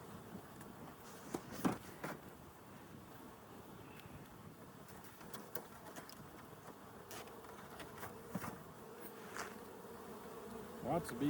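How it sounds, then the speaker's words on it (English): Honey bees swarm inside an opened hive in a Colorado beekeeping setting, giving a steady, close buzzing drone with occasional louder passes of individual bees near the microphone; no talk. "Lots of bees in here."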